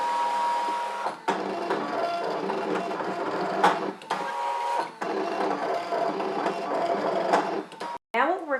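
An electronic cutting machine slicing shapes from linen on a fabric support sheet, a close, steady mechanical whir and buzz with carriage movements and brief pauses, like a printer running.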